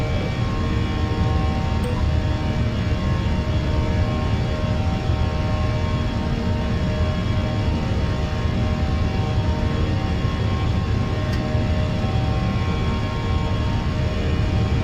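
A steady, loud engine roar from an Airbus A320 climbing after takeoff in Microsoft Flight Simulator fills the cabin, a constant broadband drone with a low hum and no talking.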